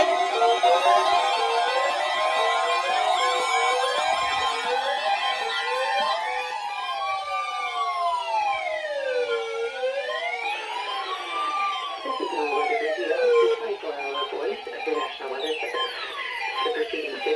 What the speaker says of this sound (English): The preceding signal was a test of the public warning alarm for transmitters in the Florida listening area.